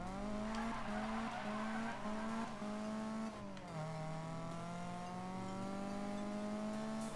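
A BMW M3 E30 in the Need for Speed 2015 game accelerates hard from a standstill, its engine revving up through several gear changes with rising and falling tones, tire squeal at launch, loud and alone.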